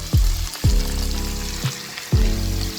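Bitter gourd (ampalaya) sizzles loudly in a hot pan, with several sharp bursts of frying as pieces drop in and a steady crackle between them, no voices.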